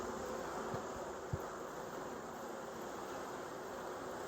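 Honeybees in a Tennessee hive in October give a steady, dense buzzing hum, continuous and fairly close, with a couple of faint knocks.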